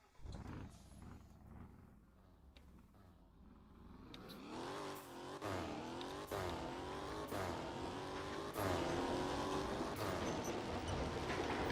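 An Audi R8 accelerating hard in the game Fix It Up, its engine climbing through repeated rising pitch sweeps between gear changes and growing louder toward the end.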